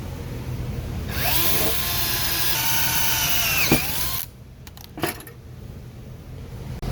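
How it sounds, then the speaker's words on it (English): A power drill bores through aluminum with a loud, steady high whine for about three seconds, then stops, followed by a couple of sharp metallic clinks. "the good news is that aluminum's a lot easier to drill than steel"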